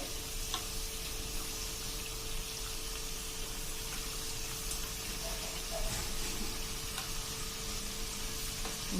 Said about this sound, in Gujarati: ભજીયાની ઉપર આ રીતે તેલ નાખતું જવાનું છે, એટલે આપણા ભજીયા એકદમ ક્રિસ્પી થશે.